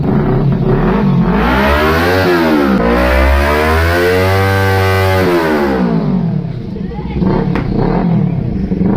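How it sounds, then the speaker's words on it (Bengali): A Kawasaki Ninja 300 with dual AC Projector exhausts revs hard and close, its rising and falling engine note sweeping up and down through several long pulls before dropping to a rough idle. "আমি তোমাদের শব্দ শুনিয়ে দিচ্ছি এসি প্রজেক্টর এক্সজস্টের।"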